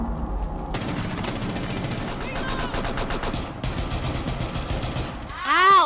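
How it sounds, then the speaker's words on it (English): Rapid gunfire bursts from Rainbow Six Siege, a loud sustained run of sharp shots with brief gaps, ending in a rising whine-like game effect. "I just shot him in the head"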